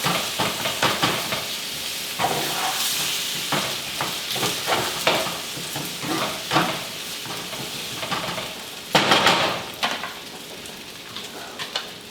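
Egg whites scrambled in a hot pan hiss and crackle steadily, punctuated by repeated scraping and stirring strokes of a utensil, with one louder burst of sizzle late on.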